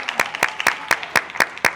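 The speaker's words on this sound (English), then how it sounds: "Give her a hand. Everybody give a clap up" Seven evenly spaced, sharp claps ring out in a steady rhythm, close and clear, from a small audience giving a hand at a talk on trauma, friendship and boundaries.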